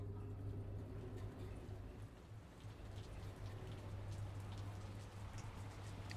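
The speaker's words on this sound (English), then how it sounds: "It's raining." Steady rain falls across a video game scene in Peripetia, a dense continuous patter of drops on surfaces with a low ambient hum underneath and no voices.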